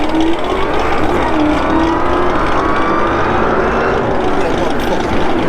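A car's worn tires spinning as its engine revs hard, a loud sustained roar with rising and falling engine tones, voices talking over it.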